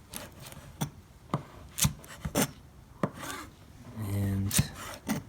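A knife slicing green onion at an angle on a cutting board, giving a series of soft irregular chops and crisp cuts with brief rubbing scrapes between them, close but fairly quiet.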